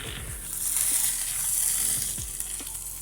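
Gobhi keema matar with a handful of fresh coriander being stirred in a hot pan, giving a steady sizzle and frying hiss with occasional scraping of the spoon, close and continuous.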